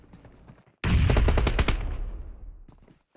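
Gunfire in a PUBG Mobile tournament match: after a quiet moment, a sudden loud burst of rapid automatic shots rings out close by and fades away over about two seconds.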